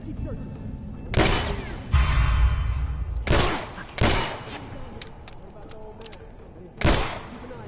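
Video game gunfire, several loud sharp shots and bursts spaced across a few seconds, with a low rumbling thud in between and a person talking under it.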